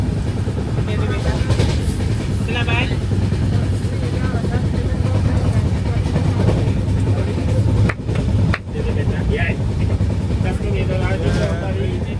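A train rumbles along the rails near the Nepal border at night in a steady, loud drone, with people talking over the continuous noise of the moving carriage.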